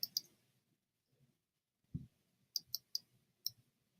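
Sharp computer key clicks from digital painting with bracket-key brush resizing, a few isolated taps then a quick run of four or five crisp clicks, close and quiet, with a soft low thump between.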